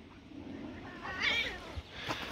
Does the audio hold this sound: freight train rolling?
no